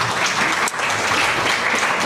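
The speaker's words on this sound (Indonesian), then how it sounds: "Boleh kita tepuk tangan dulu buat Pak Wayan Mustika" Applause for a guest speaker, a thick, loud, continuous wash of clapping from an audience, with no clear break.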